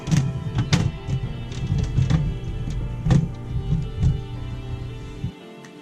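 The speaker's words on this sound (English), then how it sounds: "I'm gonna put the top back on here" Lid of a ball python tank is set back in place, giving a series of hollow thunks and knocks, close and fairly loud, then a sudden drop to quiet at the end.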